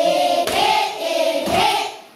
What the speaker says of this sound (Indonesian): Tepuk anak soleh